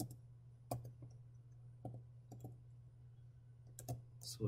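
A computer keyboard being typed on in a quiet room, with sparse, separate key clicks spaced unevenly over a low steady hum, faint and close.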